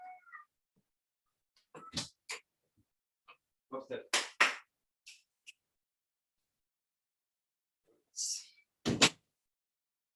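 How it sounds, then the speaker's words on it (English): A pet cat wanting to go outside gives several loud, separate meows and cries in a quiet room, with a short spoken question and a few knocks or taps between them. "my cat, when she wants to go outside, she goes crazy"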